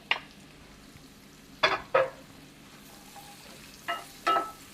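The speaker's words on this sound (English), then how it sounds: "Just saute them for it to release the flavors from them." Garlic and peppers sautéing in a pan for Jamaican roast fish, a soft steady sizzle broken by a few sharp scrapes and clatters of a spoon against the pan.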